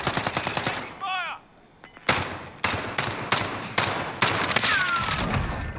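Gunfire in the video game Warzone: sharp rapid bursts and single shots crack in a close, loud sequence with brief gaps, in a tense duos firefight.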